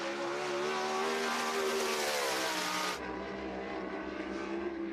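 A sprint car at speed on a lap of Cherokee Speedway in Gaffney, a loud, steady high-revving engine drone that drops in pitch abruptly as it backs off for a corner, with no talk.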